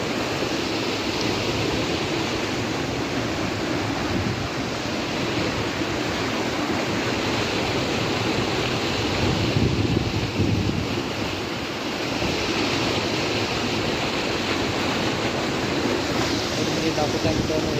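Floodwater from heavy rain rushes over a bridge in a continuous loud roar, steady and broadband, with wind buffeting the microphone.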